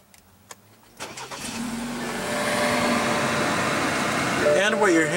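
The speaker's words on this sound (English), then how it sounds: "And what you're hearing there is a 2-liter turbo 4-cylinder." A 2016 BMW 328i with a 2.0-liter turbo four-cylinder starts after a quiet push-button press: a brief crank, then the engine catches and settles into a steady, close idle with a faint rising whine near the end.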